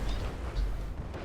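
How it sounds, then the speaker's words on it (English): A commander's Uber cannon firing in a real-time strategy game match and hitting the corner of a factory: a short, deep, booming blast with a rumbling tail. "Looks like the Commander's just fired off a really poor Uber cannon there, caught on the corner of the factory."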